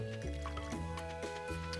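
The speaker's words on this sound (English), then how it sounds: "I'm almost out of water, and I'm out of water." A watering can is refilled with water in the Stardew Valley video game: short bubbly, splashy liquid blips repeat over steady tonal game music, with no talking.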